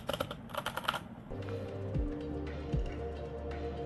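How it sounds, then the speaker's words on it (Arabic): Typing on a Corsair K70 Max mechanical keyboard, a quick burst of close, crisp key clicks at the start giving way to a steady low hum with a couple of soft thumps. "الكيبورد الكورس اير الكابس حقته أريح وأنعم، والصوت أجمل"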